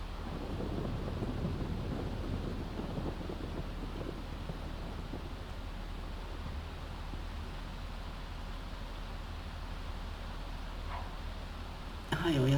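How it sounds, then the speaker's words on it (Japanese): Thunderstorm in The Sims 3, a low continuous rumble of wind and thunder throughout, fairly quiet, ending with a brief louder burst. "なんかシムズの世界は嵐が多いね。"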